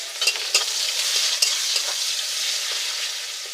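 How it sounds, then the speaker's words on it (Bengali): Onions fry in hot oil with bay leaves and whole garam masala, giving a loud, continuous close-up sizzle broken by sharp scraping strokes as they are stirred in the pan, with no talking. "পেঁয়াজটা আমি এবার লাল লাল করে ভেজে নেব"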